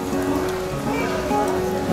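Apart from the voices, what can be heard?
rain falling at Mỹ Khê beach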